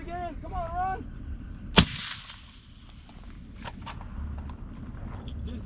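A single sharp rifle shot cracks out during an elk hunt in New Mexico, loud and close, after a brief spoken voice, followed by quiet outdoor rustling and faint movement.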